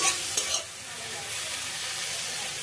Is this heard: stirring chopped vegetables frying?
yes